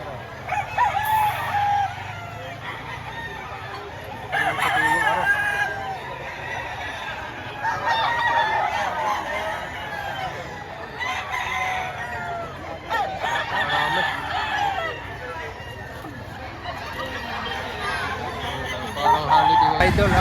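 Several gamecock roosters crow loudly in repeated bursts over clucking hens and a busy background of people chatting.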